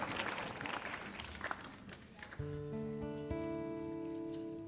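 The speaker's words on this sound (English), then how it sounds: "a big round of applause for everyone who's volunteered" A church congregation applauds its volunteers at the end of a service announcement; the loud clapping fades after about two seconds and gives way to steady, sustained musical tones.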